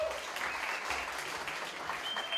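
Concert audience applauding a keyboard player after his introduction, a steady wash of clapping that holds evenly throughout at moderate level.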